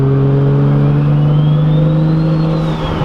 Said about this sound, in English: The one thing though I love with the SUV is that the turbo wind up noise.